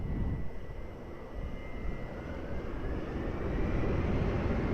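A fixed-wing airplane takes off from runway 20 at Lisbon Airport, producing a broad, continuous engine roar that swells steadily louder from moderate distance, with no talk.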